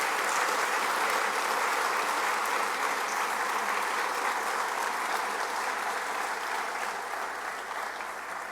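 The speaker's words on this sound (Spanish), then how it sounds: "fuerte aplauso." Sustained audience applause fills an anniversary ceremony of the Supreme Electoral Tribunal, dense and steady, fading slightly toward the end, with no talk over it.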